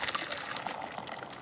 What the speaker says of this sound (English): just pour the water in up to the bottom of the tail